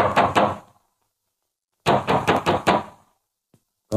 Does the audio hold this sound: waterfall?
no